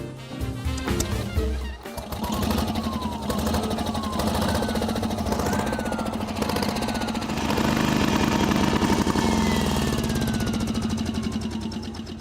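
The engine of a restored 70-year-old Baby Crawler tractor runs loud and close, a continuous chugging mechanical drone with rapid rhythmic knocking and some rising whine.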